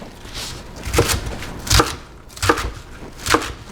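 A knife chops cabbage into coarse pieces for kimchi on a board, four or five crisp, close thumps at an irregular, unhurried pace, with quiet gaps between strikes and no talking.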